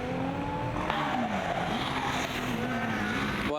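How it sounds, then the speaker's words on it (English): A Formula Student race car at the Formula Student Germany 2016 endurance event accelerates hard from the starting line, its loud engine howling steadily with rising and shifting pitch across the whole stretch, with no talk. "The car really flying from the starting line."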